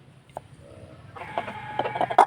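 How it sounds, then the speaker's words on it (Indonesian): A sick chicken with a respiratory illness makes snoring, rattling breathing sounds, with soft clucks and short wheezy calls that grow louder and more frequent toward the end, close to the mic. "Dengarkan, ngoroknya udah terhitung parah ya."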